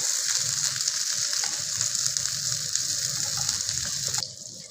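Brinjal slices and rui fish frying in oil in a pan, a steady bright sizzle with faint crackles, continuous until it drops off sharply near the end.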